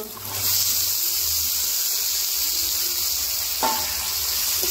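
Mixed vegetables fry with chili powder in a pan, a constant close sizzling hiss with a brief clatter of stirring near the end, no talk over it.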